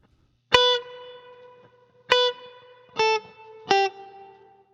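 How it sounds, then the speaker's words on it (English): Four clean, close guitar notes from a Spanish-style tune, played by a left-handed player. The first two ring out softly; the last two are plucked staccato and cut short, with gaps of silence between them. "we cut the note short"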